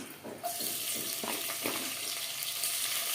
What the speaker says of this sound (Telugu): నూనె వేడెక్కింది ఇప్పుడు పచ్చిమిరపకాయలు వేస్తాను